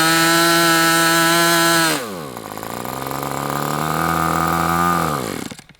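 A G61 chainsaw engine with a mis-set throttle stop screw runs loud and close at high revs, then drops abruptly to a low idle, climbs slowly, and cuts off near the end; no talk.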